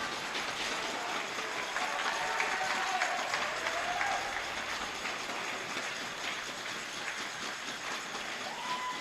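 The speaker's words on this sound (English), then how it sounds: "The crowd clapping along." Spectators in an air rifle finals hall at a junior men's European Championship clap along, a continuous broadband wash of hands echoing through the large hall at a steady level.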